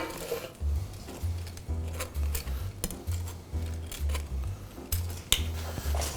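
Air-fried chicken wings tossed with truffle hot sauce in a bowl, giving repeated rhythmic scraping and clattering knocks in steady bursts, close and fairly loud.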